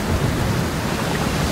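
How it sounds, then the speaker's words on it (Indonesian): Thunderstorm sound effect: a dense, steady wash of heavy rain mixed with low rumbling thunder, loud and continuous throughout. "air hujan itu, air bah itu akhirnya turun"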